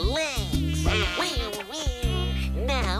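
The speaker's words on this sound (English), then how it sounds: "Now I'm going to buzz around her ear." A cartoon insect buzzes with its wings in a warbling, voice-like drone that rises and falls in pitch, loud and close, with short pauses between bursts.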